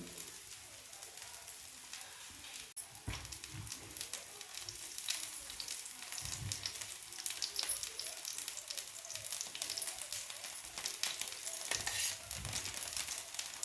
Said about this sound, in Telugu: ఉల్లిపాయలు వేసుకొని మొత్తం నెయ్యి చుట్టూ వేసుకొని కాల్చుకుందాము.